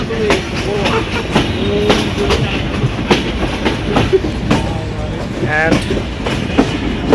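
Banglabandha Express train rolling at a railway station platform, with steady clickety-clack of wheels over rail joints and a brief squeal near the end, people talking nearby throughout.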